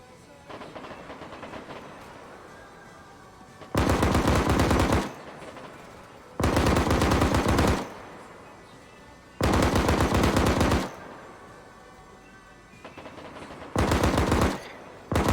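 Bursts of .50 cal machine gun fire in Arma 3, four loud sustained rapid-fire volleys of one to two seconds each, separated by quieter gaps with faint background sound.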